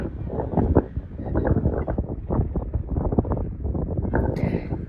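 Strong wind buffets the microphone on the Falkland Islands, a loud, steady low rumble with gusty surges that runs through the whole stretch and never lets up.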